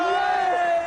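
A crowd at a video game show roars and whoops, a loud sustained chorus of raised voices that holds for under a second.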